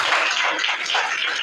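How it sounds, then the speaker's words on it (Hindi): Schoolchildren in a classroom at a junior high school in Varanasi give a student a round of applause, a brisk, close burst of many small hands clapping unevenly. "अंशु मौर्य के लिए आप एक बार तालियां बजाइए"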